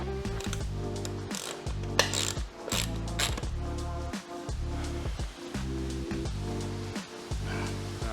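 A ratchet undoing bolts on a Yamaha Virago cafe racer motorcycle, giving loud, close, rapid clicking bursts in a repeating rhythm of short strokes with brief pauses between them.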